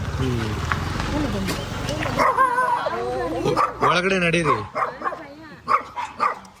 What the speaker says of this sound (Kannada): ನೋಡಿ ಎಷ್ಟು ನಾಯಿಗಳಿದೆ ಓಪನ್ ಮಾಡೋದು